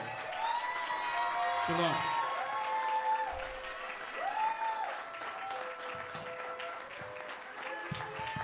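Church congregation clapping for its presiding elders, a sustained wash of applause beneath a loud sustained musical tone with a voice speaking briefly over it.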